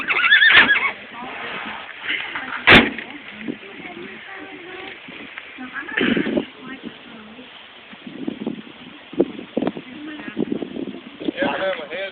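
A horse neighs at a horse training clinic, with a loud whinny near the start and hoof and rustling sounds amid outdoor activity, while people talk at times.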